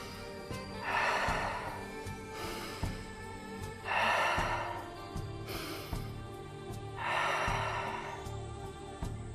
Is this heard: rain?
no